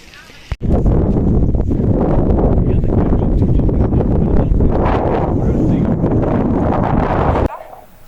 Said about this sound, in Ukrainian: тут дуже сильний потужний вітер